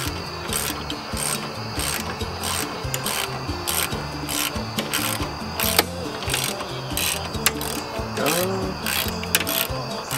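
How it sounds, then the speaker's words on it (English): A 12 mm socket on a ratchet loosening the nut on a car horn: continuous close rubbing and clicking ratchet strokes in a rough, steady rhythm, fairly loud, with a voice murmuring faintly underneath. "Use a 12 millimeter socket and a ratchet. Remove the nut."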